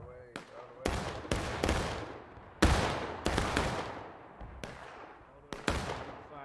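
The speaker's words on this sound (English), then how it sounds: "The Killer is reacting, getting his men in line for a volley shot." Musket volleys in a video game battle: a series of sharp, loud gunfire cracks, some single and some clustered in ragged volleys, each trailing off into a rolling echo across the field.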